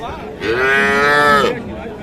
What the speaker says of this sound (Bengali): আমরা এই পাশেও আরেকটি গরু দেখছি